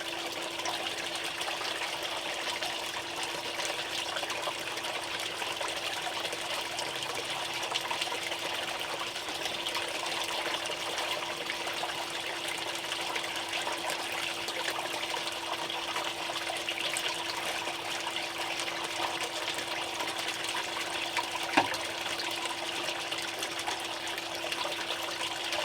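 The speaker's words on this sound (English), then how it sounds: "A little bit of water in here." Water trickling and gushing steadily into a dirt pit, a continuous wash of flowing water with a faint hum underneath and no voices.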